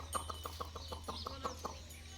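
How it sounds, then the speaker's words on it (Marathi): Chickens cluck in a quick, steady series of short clucks, close by and fairly quiet against faint background noise. "सोनिया आमच्या कोंबड्यांना बोलव खायला"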